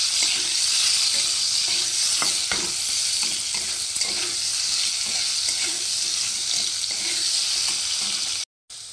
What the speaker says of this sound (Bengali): তো আলুগুলো একটু ভেজে নেবো হালকা